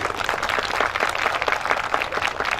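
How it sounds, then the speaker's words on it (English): A crowd at a Hmong community gathering applauds for Majority Leader Erin Murphy, a thick, continuous roar of many hands clapping at close range throughout. "please give a big round of applause to her too"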